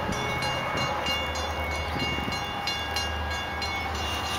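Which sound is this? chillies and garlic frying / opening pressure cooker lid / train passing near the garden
train passing near the garden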